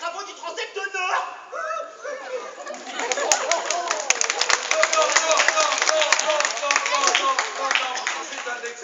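Scattered claps from a small group break out partway through, mixed with chatter and chuckling voices, fairly close and loosely rhythmic.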